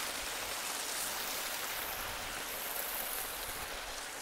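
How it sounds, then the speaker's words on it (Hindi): Small stream of flowing water in the wild near the Ghaggar at Dera Bassi, a steady close hiss and rush of water running without pause, with no voices. "छोटा सा पानी का"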